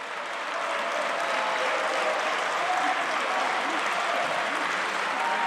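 Applause in the Argentine Chamber of Deputies after a vote, a dense sustained clapping from a large crowd that builds quickly and holds steady for several seconds, with faint voices mixed in.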